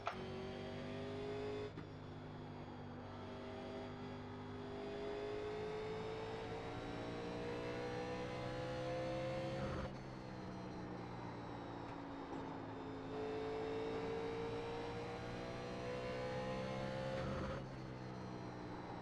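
In the iRacing sim, a 1987 NASCAR race car laps Bristol with a steady, buzzing engine drone whose pitch climbs and dips as the car speeds up and lifts through the corners, running alone without speech.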